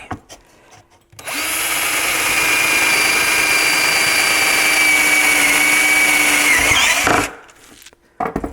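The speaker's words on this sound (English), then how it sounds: "what I am looking for is the size of the drill bit I need to use for that opening" A power drill with a 5/16 bit whirs loudly and steadily for about six seconds as it bores into scrap wood, then winds down; quiet before and after.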